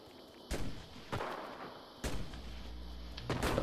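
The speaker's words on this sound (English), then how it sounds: "Oh, and now a shooter shooting me." Gunfire in the shooter game CRSED: several sharp, loud shots at irregular intervals, followed by a sustained rumbling tail and another burst near the end.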